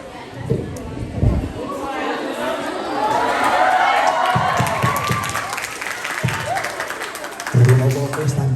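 Audience clapping at an Islamic boarding school demonstration event, mixed with crowd chatter and voices, moderately loud and steady, with talk heard over it.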